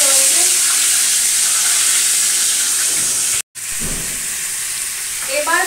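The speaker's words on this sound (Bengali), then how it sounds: "এই যে পটলগুলো ভাজছি" Pieces of pointed gourd (potol) fry in a pan with a loud, continuous hiss and crackle that runs almost unbroken. The sizzle drops out for a split second partway through.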